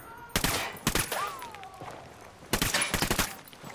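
Gunfire in the Ghost Recon Wildlands video game: a few loud, sharp rifle bursts in quick clusters, with a gap between them and a thin whistling tone in the pause.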